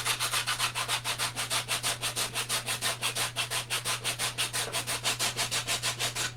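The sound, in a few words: hand sanding wood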